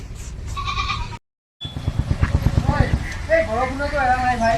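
Goats in a rustic village setting in Darrang, Assam, bleat close by in wavering cries near the end, after hoof-like pulses, a brief dropout and voices in the background.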